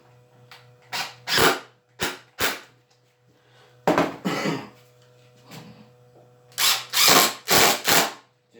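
An impact driver drives 3-inch panhead cabinet screws in short, loud, rattling bursts. Several close hammering runs come in clusters with brief pauses between them.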